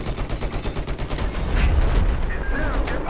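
Rapid gunfire from the video game Battlefield 4 rattles in quick, loud bursts, growing heavier midway with a deep boom, mixed with other battle noise.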